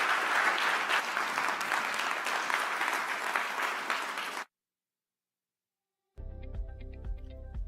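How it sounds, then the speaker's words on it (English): Audience applause after a panel discussion on NATO fills a large hall, steady and dense for about four seconds, then cuts to silence before faint music begins. "I'd love to get the audience join a round of applause for the great discussion"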